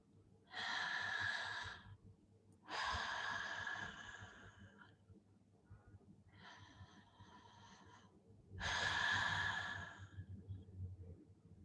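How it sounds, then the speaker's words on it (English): Deep, slow breaths drawn in and pushed out through the mouth during a guided breathing exercise, four long, loud, airy exhales with quieter pauses between them. "breathing through the mouth and out through the mouth"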